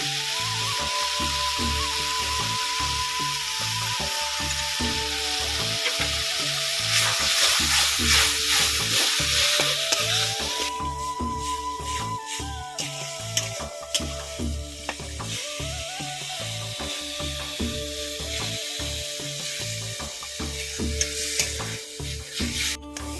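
Hand-ground shanti greens paste cooks in a pan, frying with a loud, continuous sizzle and intermittent stirring scrapes throughout, with no voices.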